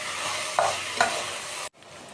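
Eggplant and ground pork for adobong talong sizzle in a pan while being stirred, a steady close fry with two distinct spatula scrapes before the sound cuts off abruptly.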